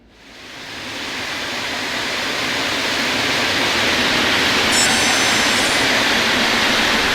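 A train in Train Sim World 6 on the Bremen to Oldenburg route builds into a loud, steady rushing roar of running rails and rolling stock, with a brief high squeal partway through.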